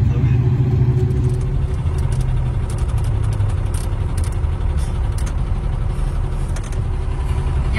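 A caravan's engine drones steadily from inside the cabin while driving, a loud continuous low rumble with road noise that holds for the whole stretch, faint voices now and then underneath.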